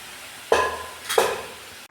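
Two quick scraping strokes of a spoon through chickpea curry in a pan, close and distinct over a faint background hum, with no speech.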